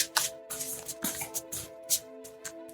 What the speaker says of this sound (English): the shuffling sounds the podcast crew is used to hearing because I always do live draws